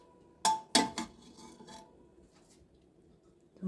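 A spoon scrapes and rasps against a bowl while sugar is stirred into a mustard paste for katla fish, a few sharp close strokes followed by softer rubbing, no voices.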